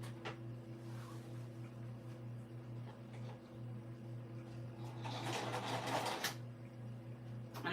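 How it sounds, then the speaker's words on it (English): Sewing machine top stitching across the top of an Addy shoulder bag, a soft steady hum with faint clicks that swells into a louder whir near the end, no talk. "I'm just doing a top stitch across the top here."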